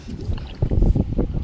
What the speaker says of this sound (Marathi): हवा खूप आहे, हवेचा आवाज येत असेल तेवढा इग्नोर करा.